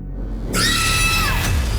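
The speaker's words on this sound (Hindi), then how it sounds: "जब आपको फ़ोन पर किसी के चीखने की आवाज़ सुनाई दी" A person screams over a phone line at night in a crime drama scene: one loud, sustained cry that bursts in suddenly and slides downward for about a second, alone without talk.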